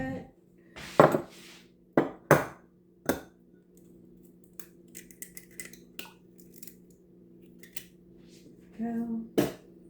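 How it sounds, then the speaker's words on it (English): An egg being beaten in a bowl for banana bread: a few sharp clacks and scrapes of utensil on the bowl, spaced irregularly with quiet gaps, close by, with a low background hum and brief talk. "So I guess I need to beat my egg."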